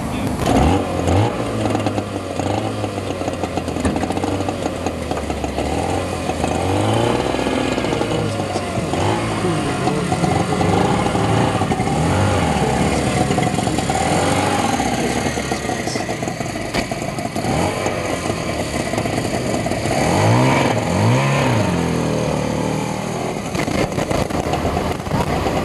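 A late-1950s British microcar, also built in Belgium under license, with a 250 four-stroke engine running at a rally, a continuous buzzing drone that rises and falls with revs, close and loud, other engines and faint voices in the background.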